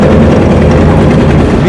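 Boat engine running on a boat trip in the Sundarbans near Dublar Char, a loud, steady low rumbling drone that continues without a break.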